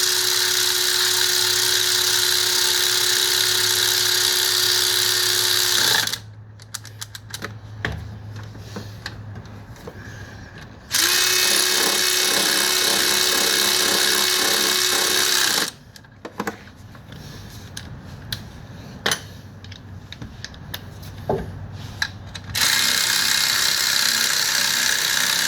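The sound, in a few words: power tool and ratchet running down bracket bolts on Toyota Sienna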